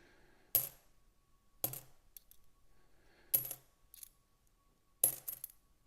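Five-cent coins being sorted by hand, four sharp clinks spaced a second or two apart against a quiet background, with no talking.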